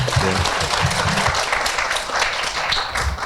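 Steady applause from a crowd fills the room, a dense wash of clapping that holds at an even level throughout.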